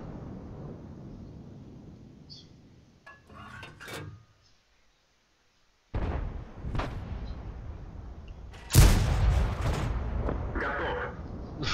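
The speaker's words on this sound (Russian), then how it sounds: "Два выстрела, два фрага." An M18 Hellcat tank destroyer fires its gun in a tank video game, with two or three heavy booming shots amid rumbling engine noise and a brief quiet gap.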